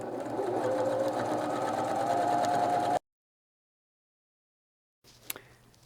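A sewing machine stitches a seam in a steady, close whirring run for about three seconds, then stops to silence before a short burst of faint handling sounds.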